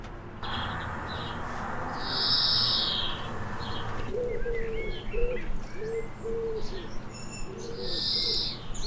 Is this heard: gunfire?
no